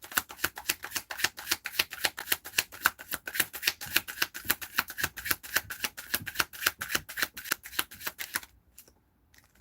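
Cards are shuffled in a long, rapid riffle of crisp flicks, then it stops abruptly into near silence.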